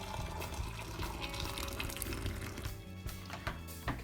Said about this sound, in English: I pour in some boiling water.